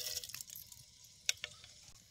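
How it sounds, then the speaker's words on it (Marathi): Mustard seeds crackle and spit in hot oil in a pan, with faint sizzling broken by a few sharp, isolated pops, quiet and close with no voices. "अशी मोहरी तडतडली"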